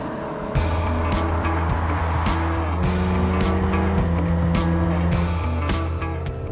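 2018 Kia Stinger GT sports sedan driving on the road, with a steady engine drone and tonal gear-change steps under music-like tones, plus intermittent sharp clicks and bursts throughout.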